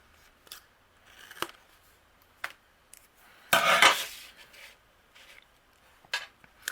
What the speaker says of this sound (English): anything overhanging, we're just going to trim off